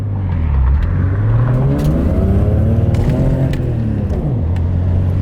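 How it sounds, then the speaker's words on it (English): Toyota Supra MKIV with a 2JZ engine revving hard at full speed, a loud close engine roar with pitch rising and falling through gear changes, with no talk. "2JZ full speed."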